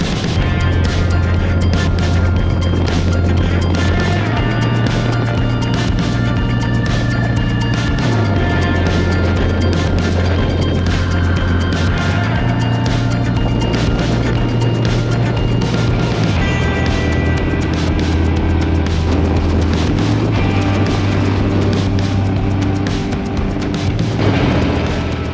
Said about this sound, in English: So let's get on the bike, let's start riding